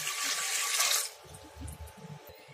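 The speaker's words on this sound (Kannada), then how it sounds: "ಇದಕ್ಕೆ ಒಂದು ಗ್ಲಾಸ್ನಷ್ಟು ನೀರು ಹಾಕ್ತಾ ಇದ್ದೀನಿ" Water from a glass poured into an idli cooker, a steady splashing gush for about a second that then stops, followed by a few faint low clunks.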